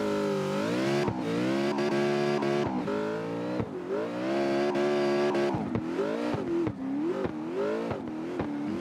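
A BMW drift car on its competition run, engine loud and close, repeatedly revving high and dropping with the throttle between brief cuts, with no talk over it.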